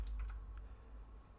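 A few quick keys are tapped on a computer keyboard, faint clicks at the start over a steady low hum, then quiet.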